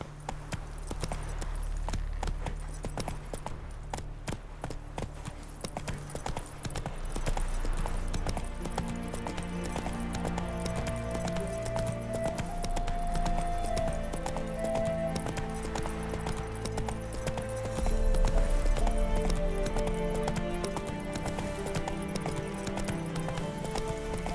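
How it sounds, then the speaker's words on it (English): Hooves of Roach, the horse in The Witcher 3: Wild Hunt, clip-clop steadily throughout under a continuous bed of game music and ambience, with the horse's footfalls staying close and even. "Come on, Roach."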